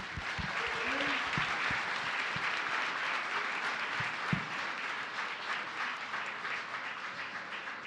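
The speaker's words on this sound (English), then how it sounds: "another round of applause for Cameron." Audience applause at a live community crowdfunding pitch event, a steady wash of clapping that holds for about eight seconds with a few louder claps near the start.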